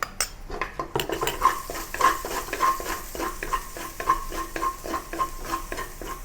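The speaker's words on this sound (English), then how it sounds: "add some cumin seeds to the remaining oil in the pan" Cumin seeds and ginger garlic paste frying in leftover oil in a pan for potato and pea curry, a steady rhythmic clatter of a spoon stirring against metal over a light sizzle, close by with no talk.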